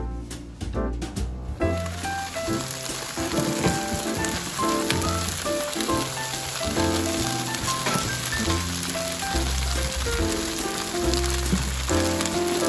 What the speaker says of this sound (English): you're gonna steam it in about a half a cup of water with the lid on it after you've fried them